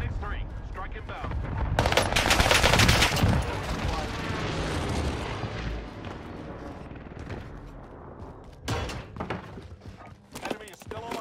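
Airstrike explosions in Call of Duty Warzone on Rebirth Island, mixed with gunfire: a loud burst of blasts rolls through the first few seconds and then a later cluster of sharp bangs, while game voices talk over it.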